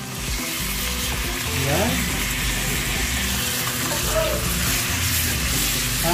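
Chicken pieces fry in a pan with sautéed garlic, onion and ginger for a creamy chicken curry, giving a loud, continuous sizzle with occasional stirring scrapes and a brief spoken word.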